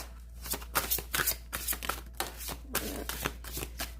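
Tarot cards shuffled repeatedly at close range, giving a run of crisp riffling bursts about every half second over a faint steady background, with no talking.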